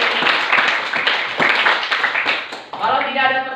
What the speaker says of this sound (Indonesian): Kasih tepuk tangan buat pembelajaran hari ini